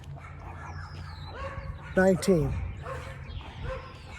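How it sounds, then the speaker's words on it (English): Several dogs bark and yip close by in a short burst midway, with a person speaking in the background around them. "sorry about the dogs"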